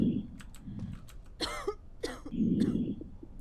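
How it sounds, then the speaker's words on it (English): A female character in the video game Quarantine Zone coughs in a few harsh, close bursts between stretches of low background noise. "And she's coughing."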